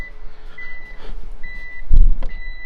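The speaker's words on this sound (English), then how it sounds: "that's the reverse annoying beeper" A reverse beeper on a Mitsubishi Delica L400 sounds a series of clear, evenly spaced electronic beeps, close and fairly loud, with a brief thump partway through.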